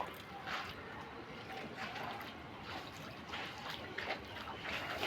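Rainwater drips and trickles from a roof with a clogged drain pipe, a steady continuous watery patter with small bursts of drips, moderately close.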